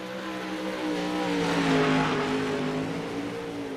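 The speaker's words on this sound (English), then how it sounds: "Longhorn race car." A Longhorn race car, a late model dirt car, laps the track at a night racing event in Volusia, its engine a sustained roar that swells as it passes closer, then eases slightly while still droning.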